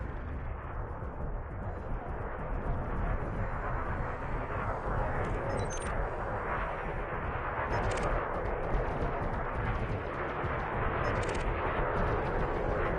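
Ship weapons fire from a space dogfight in Elite Dangerous, a continuous rumbling barrage of muffled blasts heard from a distance under steady cockpit hum, with a few sharper flashes of noise.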